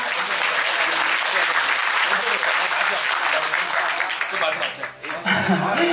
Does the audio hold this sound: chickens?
no